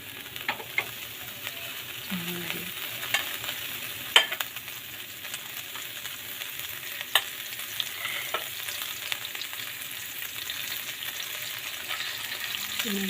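Beef with cauliflower and broccoli sautéed in a pan, a steady soft sizzle with occasional clinks and scrapes of stirring, close by, with no speech.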